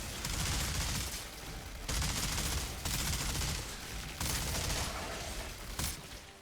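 Automated turret in Outriders firing on enemies, dense rapid bursts of gunfire in several loud stretches separated by brief pauses, no talking.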